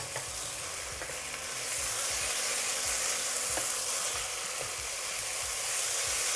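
Chicken stirred with dark soy sauce, white pepper and salt in a pot, with soft sizzling under a broad hiss and a few light clicks of a spoon against the pot, steady and fairly quiet.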